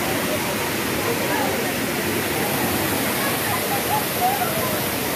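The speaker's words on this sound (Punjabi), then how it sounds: "ਉਧਰੋਂ ਬਾਰਿਸ਼ ਅਤੇ ਉਧਰੋਂ ਪਾਣੀ ਲੋਕ ਫਿਰ ਵੀ ਨਹਾਈ ਜਾਣ" A steady, dense roar of a waterfall mixed with falling rain fills the whole stretch at a village picnic spot in Malaysia, loud and unbroken with no clear pauses.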